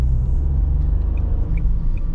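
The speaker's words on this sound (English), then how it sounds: "you can hear the petrol engine a little bit" Dacia Jogger 1.0 TCe three-cylinder petrol engine, 110 hp with a six-speed gearbox, heard from inside while driving at night as a low, steady rumbling drone with faint road noise and a few small tonal chirps.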